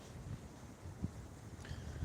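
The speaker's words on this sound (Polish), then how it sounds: "Strasznie wieje, no." Strong wind in Wrocław, Poland, on a dark evening buffets the microphone in a low, steady rumble with gusty swells, no voices present.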